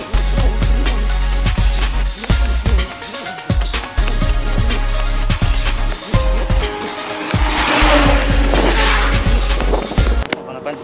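Vehicles pass close on a highway, a continuous roar of engines and tyres with repeated loud rushes and whooshes as each one goes by, and a voice talks intermittently beneath the noise.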